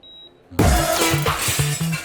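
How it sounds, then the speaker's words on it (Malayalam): After a faint high tone, a dish suddenly shatters loudly nearby, followed by ringing, clattering fragments settling. "പാത്രം പിന്നെയും പൊട്ടിച്ച?"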